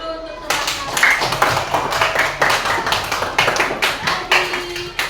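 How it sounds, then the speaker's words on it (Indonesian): Children clap together in a classroom, a lively burst of uneven, close hand claps lasting several seconds with faint voices mixed in. "Beri tepuk tangan dulu untuk teman-teman"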